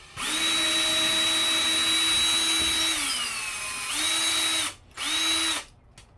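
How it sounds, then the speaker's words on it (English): A power drill whines steadily for a few seconds, its pitch sagging as it bites into the wall, then two shorter bursts follow. "I'm gonna do one side first. Drill it."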